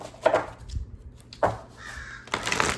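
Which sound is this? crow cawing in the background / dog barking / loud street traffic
crow cawing in the background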